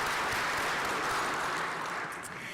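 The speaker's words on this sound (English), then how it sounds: "Now, let's give them an applause." Audience applause at an engineering alumni awards banquet: steady, dense clapping from a crowd that fills the whole stretch, loud and even, tapering slightly at the end.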